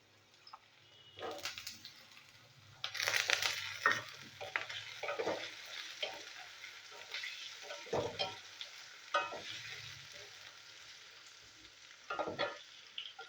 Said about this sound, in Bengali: বন্ধুরা, এই পেঁয়াজ ভাজা হচ্ছে, ওর মধ্যে আমি এই আলুটাও দিয়ে দেবো,